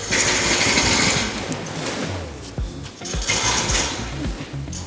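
Rope pulley hoisting a large 5-metre LED light rig in a workshop, with a rapid rattling, ratcheting clatter and uneven squeaky creaks as the lumpy rope runs through, close and fairly loud.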